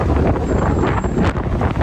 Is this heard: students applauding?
no